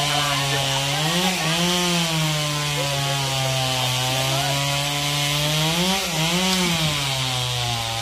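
A chainsaw cuts a branch of a large mahogany (Xà Cừ) tree next to a house roof, producing a loud, close, continuous engine whine with brief dips in pitch as the chain bites into the wood.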